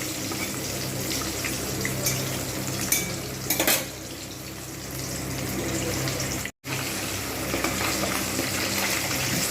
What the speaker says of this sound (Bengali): মাছগুলোকে আমি অল্প অল্প করে ভেজে নিচ্ছি